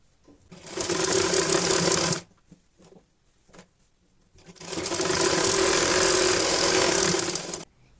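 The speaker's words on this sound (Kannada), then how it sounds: "ಸೊ ಇವಾಗ ಸ್ಟಿಚ್ ಹಾಕೊಳ್ಳೋಣ ಬನ್ನಿ" Sewing machine stitching fabric for a rabbit hat, two loud close bursts of rapid mechanical whirring and needle clatter separated by a short pause with faint handling taps, no talking.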